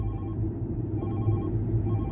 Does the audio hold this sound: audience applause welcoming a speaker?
no